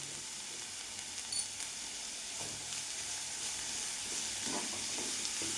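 Onions sauté in a hot pan with a steady, close sizzle and hiss, joined by occasional faint stirring scrapes, with no talking.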